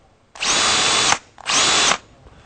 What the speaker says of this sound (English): even when you hear this motor run, it is very different sound than you'll hear with the typical drill